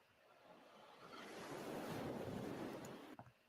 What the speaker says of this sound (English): Also just generic, just nice sound effects, ocean waves.